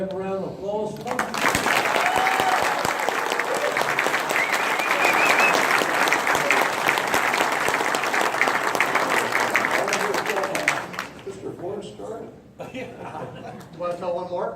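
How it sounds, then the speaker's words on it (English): Sustained audience applause at a museum panel for a Mustang special exhibit opening, loud and dense for about ten seconds, then fading into scattered chuckles and people talking nearby. "Do we have a round of applause for them?"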